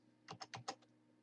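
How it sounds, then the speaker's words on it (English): A few quick keystrokes on a computer keyboard, about five crisp clicks in a short burst, close and fairly quiet, with no talking. "Let's type that in."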